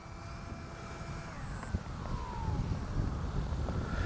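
A light radio-controlled airplane drones overhead, its engine pitch gliding downward as it passes while the steady airflow noise builds slightly, heard from a moderate distance without talk.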